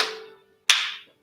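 Two sharp hand claps during a Tabata fitness class, one right at the start and another about two-thirds of a second later, each ringing out briefly in the room over a faint steady hum.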